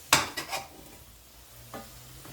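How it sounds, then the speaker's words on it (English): A spoon scrapes and stirs fish through a spiced curry with onions in a pan, a few quick close scuffs over a low sizzle, then quiet with one more soft stir. "try and get all the spices, all the fishes covered with the spices"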